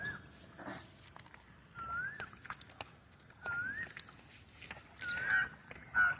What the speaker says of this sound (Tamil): இங்கே தண்ணியில் நீஞ்சிட்டு இருக்கிறது வாத்து தான்.